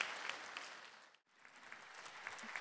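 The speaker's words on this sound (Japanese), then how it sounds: "今一度大きな拍手を" Audience applause at a national Japanese song contest final, honoring the winner and runner-up: dense, steady clapping from a crowd that fades out briefly midway, then swells back to full strength.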